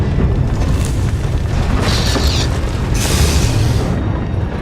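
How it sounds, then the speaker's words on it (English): Groundquake in SWTOR (Star Wars: The Old Republic) on Makeb, a loud continuous deep rumbling roar with heavy low-end boom and surging bursts of crackling debris, no speech. "The groundquakes will not impede me."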